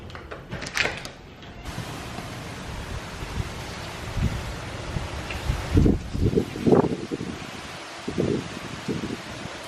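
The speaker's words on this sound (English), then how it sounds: "It's pretty windy, rumbly, lightning." Gusty wind blusters and roars outdoors during a hurricane with thunder, with rumbling low swells and rustling that rise and fall throughout.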